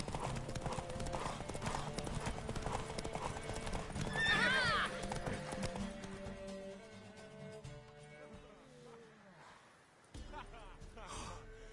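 Rhythmic hoofbeats of a galloping horse in The Witcher 3, with a loud whinny midway, over background music and a brief voice.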